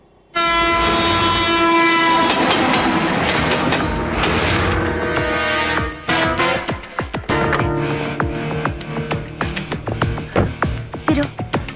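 A train passes on a railway track beside a mosque. A loud, sustained horn blares first, then rhythmic clattering of wagons over the rails carries on close by, with no voices.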